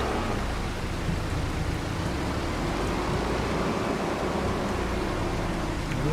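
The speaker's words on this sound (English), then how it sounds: "The rain started." Steady rain falling in Farming Simulator 25, heard as a constant even hiss with no breaks, moderately quiet, and nobody speaking.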